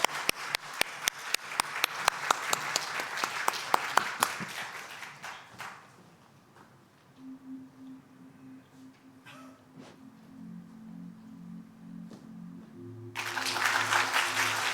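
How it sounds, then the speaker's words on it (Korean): A church congregation applauds to welcome a speaker during a Sunday service, with dense clapping that fades after about six seconds; quiet murmurs and soft tones follow before a swell of noise returns at the end. "우리 함께 박수로 맞아주십시오."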